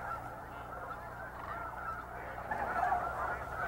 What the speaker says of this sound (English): the cranes and geese return to the river or to the large wetlands on the refuge for the night